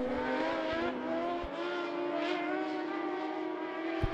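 Mod lite race cars roar around the I-75 Raceway oval in a close fight for the lead, several engines droning steadily together at racing speed, loud and continuous throughout.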